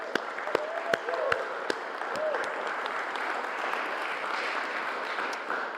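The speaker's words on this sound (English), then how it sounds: "So, a round of applause." Audience at an apple and cider festival in the UK breaks into steady applause for a cider and perry award winner, a dense even patter of many hands with a few sharper nearby claps, no talking over it.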